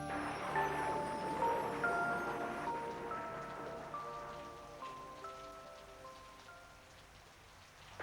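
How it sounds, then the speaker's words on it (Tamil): Steady rain pours down on surfaces, a soft, even hiss of many drops at moderate distance, continuous throughout without voices. "பாருங்களேன் எப்படி மழை பெய்யுது"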